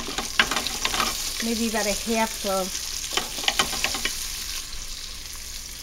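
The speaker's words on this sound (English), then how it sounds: "I'm now going to add my onions" Chopped onions tipped into a hot Power Pressure Cooker XL pot for chicken cacciatore burst into a steady, close sizzle with scattered clatter, while a voice speaks briefly over the frying.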